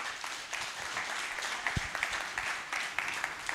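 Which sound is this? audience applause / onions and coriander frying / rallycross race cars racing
audience applause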